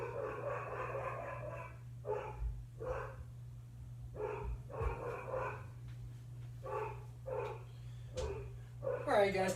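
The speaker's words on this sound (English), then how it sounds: "please do excuse my dogs in the background" Dogs bark in the background in short repeated bursts spread across the whole stretch, mid-distance and fairly clear over a steady low electrical hum.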